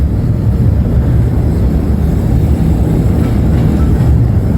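Train rolling through Chirirbandar railway station, recorded from inside the carriage: a steady, loud low rumble and rattle with wind noise, continuous throughout and without speech.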